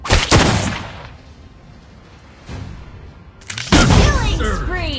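Clint firing his guns in Mobile Legends, a few loud heavy shot bursts spaced apart with ringing tails, the last one followed by a busy flurry of effects.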